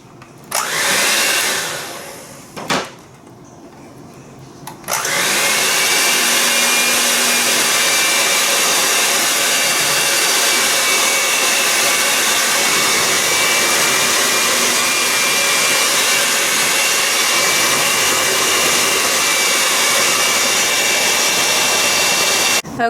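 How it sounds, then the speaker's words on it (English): An electric blender whirs steadily through banana bread batter, a loud, continuous motor drone after a few brief starts and stops, with no talk. "I mixed that up with my blender for about 3 minutes"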